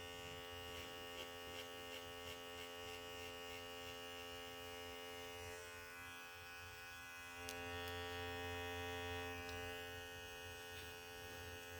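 Electric trimmer buzzing steadily while grooming a puppy's paws, a close continuous motor hum with a slight rise in tone partway through, no talking.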